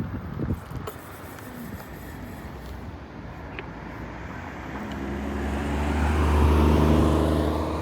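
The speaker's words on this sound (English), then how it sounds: "Let these cars go." Cars pass on a road near a shopping center, heard from an e-scooter: a faint early rumble, then a vehicle's engine and tire roar swell up close and loud toward the end.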